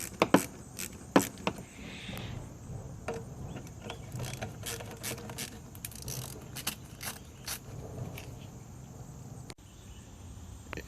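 A ratchet loosens an 8mm bolt on a Grand Marquis engine during intake manifold removal, making quiet, close clicking runs with a few sharper knocks near the start, in a faint, hushed setting.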